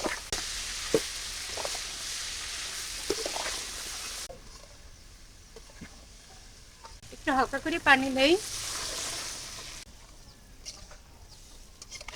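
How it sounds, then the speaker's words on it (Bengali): Potatoes fry in a pan with turmeric, chili powder and salt, giving a close, steady sizzle. It gives way to scraping stirring sounds, with a brief high voice-like chirp partway through. "এবার দিয়ে দিলাম হলুদের গুঁড়া মরিচের গুঁড়া লবণ এবার ভালোভাবে আলুর সাথে লাড়াচাড়া দিয়ে নেই"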